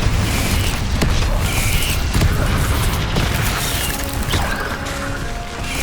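Confringo blasting-spell explosions in the Hogwarts Legacy video game land as heavy booming crashes inside a loud, dense wash of game noise, steady and continuous from start to finish.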